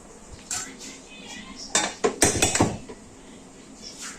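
A bowl and spoon clink and scrape in a home kitchen while cornflour is stirred in for a chhana cutlet batter, with a few sharp ceramic and metal knocks clustered in the middle, fairly close.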